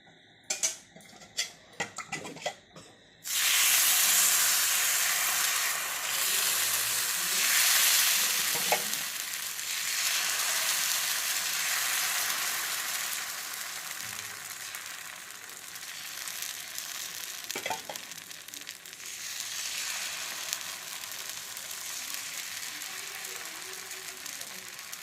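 Lemon pulihora dosa frying on a hot pan, a steady loud sizzle that starts abruptly after a few clinks of utensils and continues with occasional scrapes and taps of a spatula.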